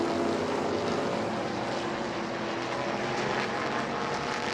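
Race cars at New Smyrna Speedway roaring toward the checkered flag, a steady loud wash of engine noise throughout with no distinct pass-by or break.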